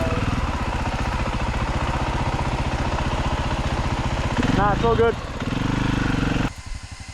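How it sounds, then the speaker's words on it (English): A dirt bike engine revs and idles in a steady low throb, rising briefly near the end before dropping back, with people talking over it throughout. "You're just revving it. You let the clutch out more."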